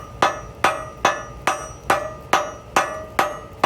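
Hot steel struck with a hammer while forge welding a cable knife, about eight evenly spaced, sharp metallic blows, loud and close with no talking.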